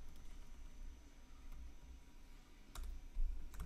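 Soft, quick key presses on a computer keyboard tap in a quiet room, with a couple of sharper clicks near the end, faint and close.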